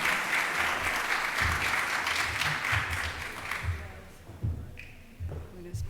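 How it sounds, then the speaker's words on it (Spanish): An audience at a university talk on EU teaching grants applauds a Universidad del Valle international mobility coordinator with steady clapping that fills the room, then thins out and fades toward the end. "Un aplauso para ella y gracias por estar aquí"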